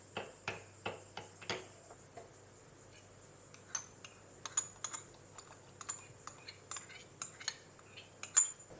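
A utensil scrapes and clinks against a metal pot in a quick, uneven rhythm, repeated taps and scrapes close up, stirring a boiling mango pudding mixture thickened with corn paste over a low flame.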